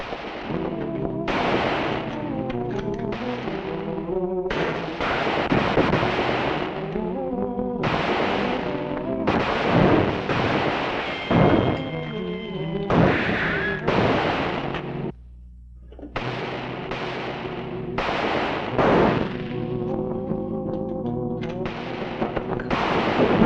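Gunfire in a western TV drama: a rapid series of loud, close shots and ricochets in bursts over dramatic orchestral score, with a short lull midway before firing resumes.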